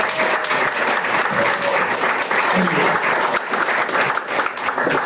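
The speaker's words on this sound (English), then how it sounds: "Big round of applause for these guys." Audience clapping at a film Q&A in a cinema, a dense continuous wave of applause filling the room, with a voice faintly mixed in beneath.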